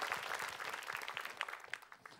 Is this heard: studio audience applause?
yes